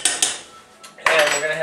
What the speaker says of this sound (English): So we got the butter added. We're going to stir that in.